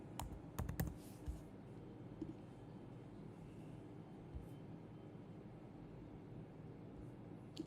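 Someone types an OTP code on a computer keyboard, giving a quick flurry of faint key clicks near the start, followed by quiet room hum.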